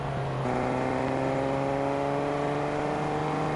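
Car engine in Fortnite droning steadily and close, with a low hum and a rising pitch as it accelerates, alone without talk.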